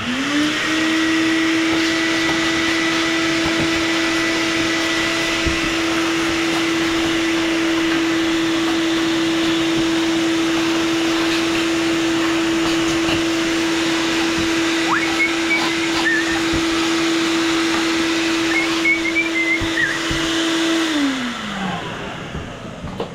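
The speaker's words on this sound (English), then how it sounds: "First thing I'm gonna do is take my wet vac and get some of this debris out of there." A wet vac draws debris out of an Ariens riding mower with a 20 hp Briggs V-twin, whining loudly and steadily up close for about twenty seconds before it winds down at the end.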